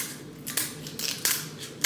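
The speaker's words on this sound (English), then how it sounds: "I take my scissors and I cut" Kitchen scissors snip down the back of a lobster shell, several crisp crunching cuts in an uneven rhythm, close and fairly loud.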